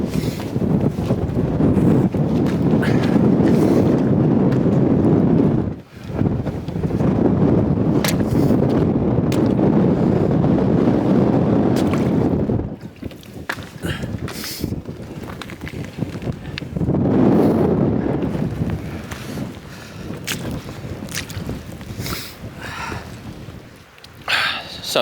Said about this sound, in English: I got absolutely battered. The wind was crazy.